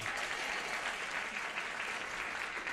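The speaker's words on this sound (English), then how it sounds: "Why are you applauding?" Studio audience on the 1975 game show Match Game applauding a contestant's answer, a steady dense wash of clapping that holds at full level from start to finish with no voices over it.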